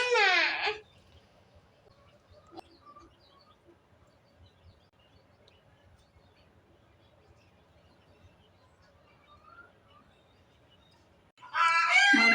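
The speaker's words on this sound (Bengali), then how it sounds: "মুরগি ডিম দিছে বাবা" A hen that has just laid an egg cackles in a village yard: a loud, shrill burst at the start and another at the end, with near-silence between them.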